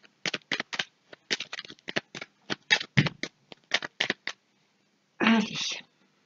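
Tarot-style cards are shuffled for a reading draw, a run of quick crisp riffles and flicks in irregular bursts, close and fairly quiet, followed by a brief longer rustle at the end.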